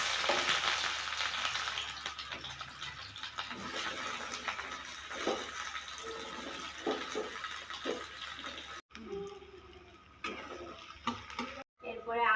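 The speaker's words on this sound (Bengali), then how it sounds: "অল্প করে তেলটা দেব লঙ্কা ফোড়ন দেব" Dried chillies tempering in a little hot oil in a heated wok for a desi chicken curry, a steady loud sizzle with scattered crackles and a few stirring knocks, fading to quieter spitting near the end.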